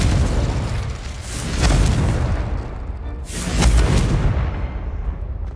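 The Confringo explosive spell in Hogwarts Legacy, two loud booming blasts a couple of seconds apart, each swelling into a rumbling burst and fading out.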